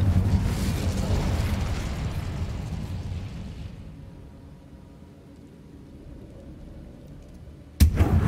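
A fiery Incendio spell blast from Hogwarts Legacy bursts loud and roaring, then tails off into a low rumble before a sharp impact near the end.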